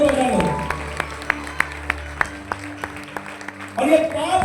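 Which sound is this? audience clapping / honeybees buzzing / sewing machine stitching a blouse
audience clapping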